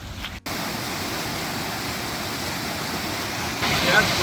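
Silty, cold glacial runoff river near Mount Hood rushing in a dense, steady roar, close and loud, broken once by a brief cut early on, with voices present.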